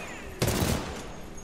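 A single burst of video game gunfire in Titanfall 2 hits suddenly and loudly, followed by a brief decaying rattle, with no talk over it.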